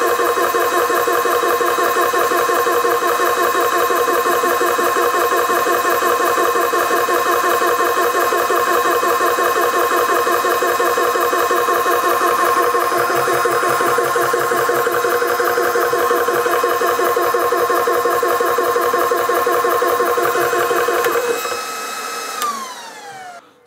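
A high-pressure HPA air compressor runs loud and close with a steady droning whine and fast mechanical pulsing for over twenty seconds, then winds down sharply near the end.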